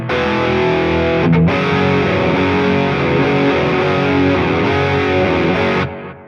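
Stereo electric guitar rig sample summed to mono, a loud, thick distorted guitar part playing continuously with a brief break early on before fading out at the end, no speech.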